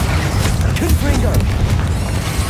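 A Confringo spell blast in Hogwarts Legacy sounds like a loud, sustained booming rumble filling the whole moment, dense and close, with game effects layered over it.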